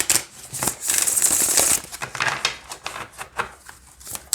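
A deck of tarot cards with a glossy coating is shuffled close by, giving rapid papery riffling and flicking clicks in uneven bursts.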